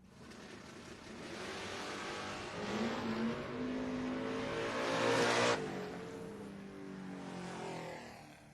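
A 2010 Camaro and an S10 launch in a door-car drag race, engines roaring loud and continuous with rising revs that peak and then cut off sharply before settling into a lower drone.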